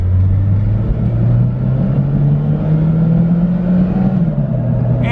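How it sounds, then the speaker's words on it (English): A cheap JDM Nissan turbo car pulls away hard from a stop with the throttle buried, its engine droning loud and close as the pitch climbs steadily and then eases off near the end. "Now, to get this car going from a stop, you really got to kind of bury the throttle."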